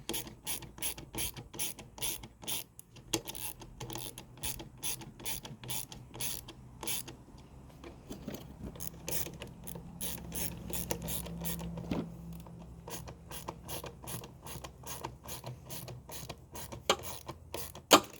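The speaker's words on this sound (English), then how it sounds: "now go back to 7 mil and tighten those bad boys up." A 7 mm ratchet tightens the carburetor bolts on a lawnmower, with rapid, close pawl clicking in repeated bursts and a short pause partway through.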